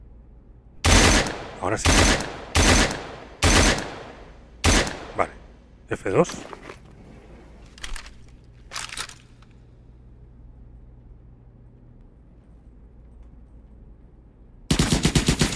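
Rapid bursts of Kalashnikov rifle fire in the video game Life Effect, several loud volleys in quick succession, then a pause and another burst at the end, with brief talk between shots.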